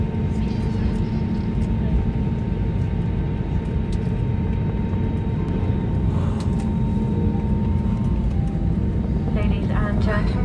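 Airplane cabin noise on a flight to Dublin, a loud, constant low roar of engines and airflow holding steady throughout, with faint talk and small cabin clicks near the end.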